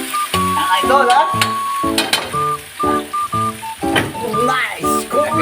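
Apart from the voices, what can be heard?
tomatoes added to a pan, sizzling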